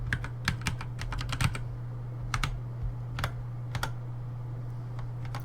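Keys clatter on a computer keyboard during setup of a Devuan Linux virtual machine, in short uneven bursts of crisp taps with brief pauses between, close and fairly quiet with no talk.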